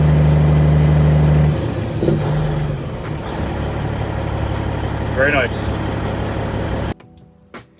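A Caterpillar truck diesel engine idles steadily after a fuel filter and separator change, a loud low rumble that settles smoothly, with a brief spoken remark and a sudden cut to near quiet at the end.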